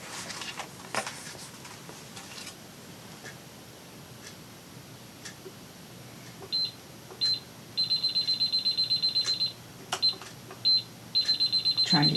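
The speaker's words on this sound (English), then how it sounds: "Trying to set my timer" A kitchen-style timer beeps while being set, giving short isolated beeps and then rapid runs of repeated high electronic beeps, clear and close against a quiet room with faint clicks.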